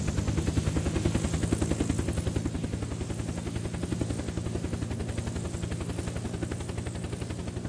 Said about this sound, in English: Oh, the choppers are going crazy.